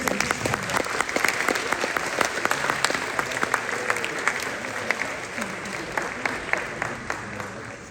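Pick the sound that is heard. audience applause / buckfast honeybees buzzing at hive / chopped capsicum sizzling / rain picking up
audience applause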